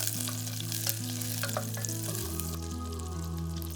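Garlic frying in melted butter in a pot, hissing in a steady, continuous sizzle at close range, with a few faint clinks and a low steady hum underneath.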